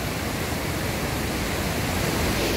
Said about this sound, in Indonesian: Itu dia air terjunnya.